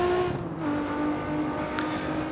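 Lexus LFA engine in CarX Street, a steady high-pitched racing drone held at moderate loudness for a couple of seconds, with no talking.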